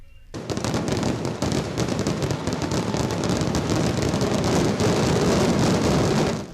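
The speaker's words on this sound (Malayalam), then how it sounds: "സാമ്പിൾ വെടിക്കെട്ടിന് ആദ്യം തിരികൊളുത്തിയത് പാറമേക്കാവ്." Sample fireworks display at the Thrissur Pooram festival, a dense, continuous barrage of loud crackling blasts and booms merging into a roaring wall of sound from start to finish.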